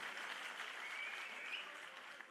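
A crowd of auto and taxi drivers at a meeting in Ludhiana claps together, giving a dense, steady burst of applause for a couple of seconds that eases slightly at the end.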